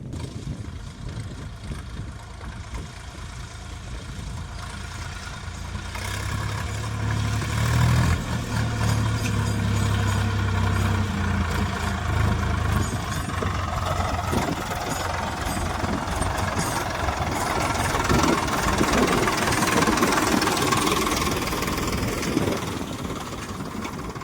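A GPS-guided farm tractor's engine idles with a steady, fairly loud, low rumble that runs unbroken from start to end, with no talking.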